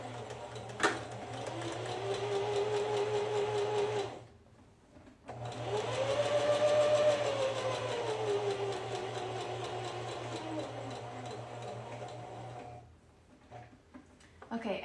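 A domestic sewing machine stitching garment seams at a construction stitch length of 2, running in two steady whirring bursts of several seconds each with a short pause between, fairly close and under a person talking.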